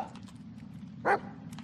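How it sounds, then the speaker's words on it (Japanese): A dog gives a single short bark at a moderate distance in the horror video game Blair Witch, set in a forest, over a low ambient hum. "なんかワンワン言うてる"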